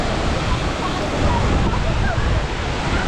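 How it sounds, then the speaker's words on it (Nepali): Water pours down the Pokali waterfall in Nepal, a dense, steady rushing roar close by, with people talking faintly over it. "लु यस्तो यता रहेछ यो झरना यहाँ चाहिँ पुल रहेछ"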